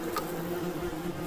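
A bald-faced hornet buzzes close up while eating honey on a honeycomb, a steady low droning hum that sounds continuously and alone.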